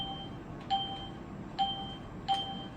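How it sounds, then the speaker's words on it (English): Windows default system sound, a short chime played three times in a steady rhythm about a second apart, faint and clear with no talking over it. "that's just the Windows default sound it sounds like"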